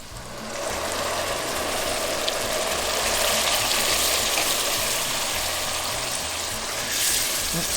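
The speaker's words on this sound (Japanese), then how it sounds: "しっかりほぐしたらビノビアンコを入れます。" White wine (vino bianco) poured into minced meat frying over high heat for a white Bolognese ragù, a loud, steady hissing sizzle with a faint rattling undertone that holds evenly throughout.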